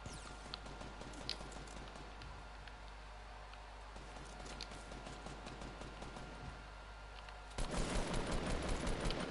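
Video game gunfire, faint rapid shots and patter under a low hum, then a louder, denser burst of firing near the end, with no voices.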